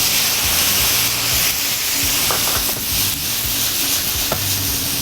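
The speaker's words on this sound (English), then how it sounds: "I'm gonna deglaze the pan with some vermouth" Vermouth poured into a hot pan of mushrooms seasoned with nutmeg, sage, oregano, salt and pepper, giving a steady close hiss and sizzle with light stirring scrapes throughout, no talking.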